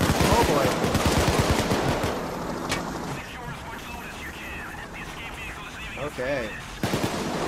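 Rapid video game gunfire in a jewelry store shootout, loud bursts of close automatic fire at the start, then quieter scattered shots and game sounds while a player speaks briefly.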